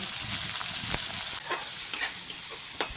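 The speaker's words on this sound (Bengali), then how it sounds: "এবার ভালো করে নাড়িয়ে চাড়িয়ে ভেজে নেব মশলাগুলোকে।" Onion, tomato, ginger paste and garlic paste spices stir-fried in a pan with cumin, giving a steady close sizzle broken by a few scraping stirs of the spoon, with no talk.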